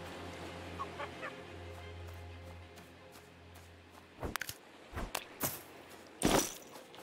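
Chickens in the survival video game Breakwaters give a series of short clucks and squawks, bursting in irregular clusters over quiet outdoor ambience, with occasional light footstep-like sounds between them.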